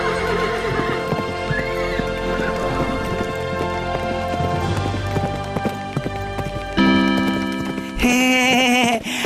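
A magical horse in a Hindi animated story neighs with a high whinny over hooves clip-clopping, set against a musical score, with no speech.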